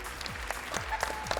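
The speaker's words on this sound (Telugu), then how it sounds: "clap for Manas everyone" Children give sparse, scattered clapping for the winner of a kids' game, a few soft claps at a time with light background noise.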